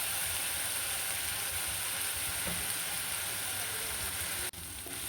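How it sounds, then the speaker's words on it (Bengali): Onions fry in a pan with paste and salt, giving a continuous dense sizzle at steady volume that cuts off abruptly near the end. "এখন নেড়ে চেড়ে পেঁয়াজটাকে ভালো করে ভেজে নিব"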